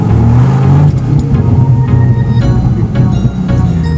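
A 510-horsepower Dodge Viper sports car accelerates, its loud, close engine rumbling and rising in pitch with a brief shift-like dip partway through, heard from inside the car.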